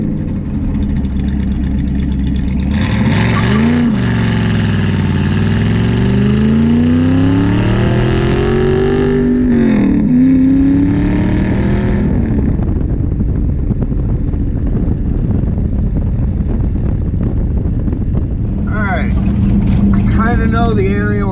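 A car engine drones steadily as the car drives past farmland, revving up and down through several rising accelerations and gear changes. The engine is loud and close throughout.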